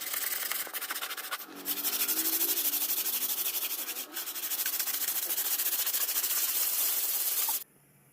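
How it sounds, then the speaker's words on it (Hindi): Sandpaper rubbed by hand inside a freshly drilled PVC pipe, a continuous close scratchy hiss with brief pauses and shifts in stroke, stopping abruptly at the end, with no talk. "उसे आपको घिसाई करके सफाई कर लेना है। ठीक है, सल्ट पेपर से या फिर सैंडिंग पेपर"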